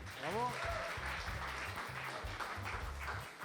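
Audience applause for a player, a fairly soft continuous wash of clapping beneath a strong low rhythmic backing, with a brief voice near the start.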